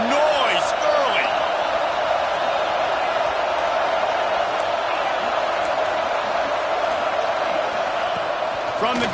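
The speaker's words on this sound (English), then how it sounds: "This crowd bringing the energy and noise early." A football stadium crowd keeps up a continuous, loud, broad roar throughout, with a commentator's voice talking over it.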